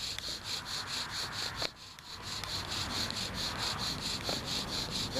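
A pine bow drill spins against its board to make fire, giving a steady, rhythmic rasp of friction with fast back-and-forth strokes and one short pause partway through.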